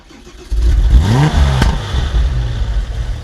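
A Porsche 996 GT Club Sport engine fires up close by, the starter catch giving way to a loud revving bark that settles into a steady, rumbling idle.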